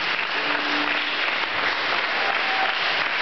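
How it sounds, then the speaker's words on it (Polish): Concert audience applauding in a church-hosted performance, a steady dense wash of many hands clapping at even loudness, with no voices over it. "Brawa dla pana akustyka, pana dyrektora"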